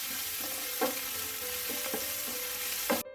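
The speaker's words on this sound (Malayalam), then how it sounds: "8 അല്ലി ചെറിയ വെളുത്തുള്ളി ചതച്ചത് ചേർക്കാം. ഒരു മീഡിയം പീസ് ഇഞ്ചി ചതച്ചത്, 5 6 ചെറിയ ഉള്ളി ചതച്ചതും കൂടി ചേർത്തിട്ടൊന്ന് വഴറ്റി കൊടുക്കാം" Crushed garlic, ginger and shallots sauté in hot oil with a constant fine sizzle and a few soft spatula stirs, faint and close, with no talking.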